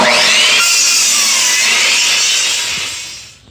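A saw cuts through wood to trim a sukkah panel, slightly over 8 feet tall, by about a quarter inch. One loud, steady, close rasping cut runs for about three seconds, then fades out.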